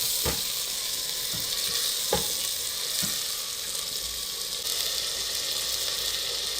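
Meat frying in a handi for Afghani-style aloo gosht, a dense constant sizzle with a few scraping strokes of a spoon early on, loud, close and without speech.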